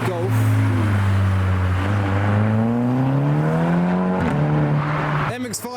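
A Volkswagen Golf drives off from a car meet, its engine rising steadily in pitch as it accelerates away nearby, loud and sustained, with a voice briefly audible over it.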